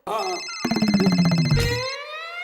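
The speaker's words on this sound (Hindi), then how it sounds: "पहले तुम्हारा फोन बज रहा है, वो उठा लो।" A mobile phone ringtone plays loudly and close by as a repeating electronic melody, starting after a brief spoken line and fading out after about two seconds.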